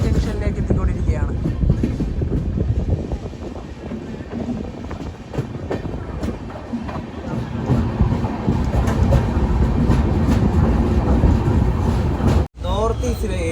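A passenger express train rolls into Rangiya Junction in Assam, with a loud, continuous rumble and rail clatter, wind buffeting, and a brief dropout near the end.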